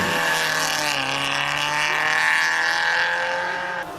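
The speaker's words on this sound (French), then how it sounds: "Voici la 205 GTI de Steve Rondel." A Peugeot 205 GTI race car at the 2003 Arques-la-Bataille hill climb holds a loud, steady, high engine note that climbs slowly in pitch, close by and unbroken for several seconds before cutting off.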